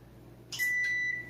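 Oven control panel gives a short electronic beep and then a longer sustained tone while being set for baking pizza in a home kitchen, clear against a quiet room hum.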